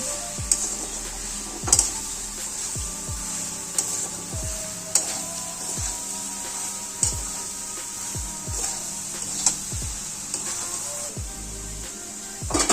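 Fried soybeans are stirred in a pan for a Bengali soyabean curry, with repeated scraping strokes against the metal over a steady sizzle, close and fairly quiet, and no one talking.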